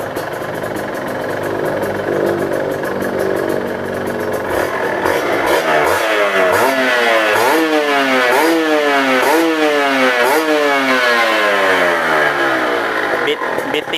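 A Kawasaki KR150 motorcycle engine is revved again and again, each blip climbing in pitch and dropping back in a repeated sawtooth pattern, loud and close, with voices heard at times.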